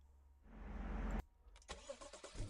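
A car engine rumbles up loudly, then cuts off abruptly and settles into a quieter, uneven idle with small bumps and knocks. The whole thing is faint in level overall.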